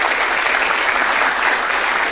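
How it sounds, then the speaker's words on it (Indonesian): Studio audience of the Indonesian talk show Mata Najwa clapping for a guest, a full, even burst of applause that stays strong from start to finish without speech. "Boleh tepuk tangan sekali lagi dong untuk Ibu Naf."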